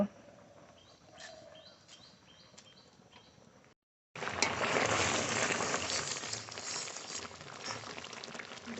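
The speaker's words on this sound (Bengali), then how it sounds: "ডাল ভালো করে ফুটে গেছে" Dal with lentils boiling in a pot on a home kitchen stove, a faint quiet stretch with a few chirps, a brief gap, then a steady louder bubbling hiss that continues to the end.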